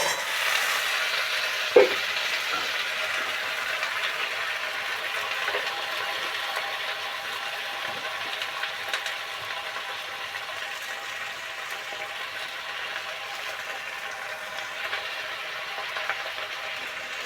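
Pointed gourd (potol) frying in a pan for a potol dalna: a steady, fairly faint sizzle and hiss runs throughout, with one sharp clink or stir near the start and a few light stirring scrapes later.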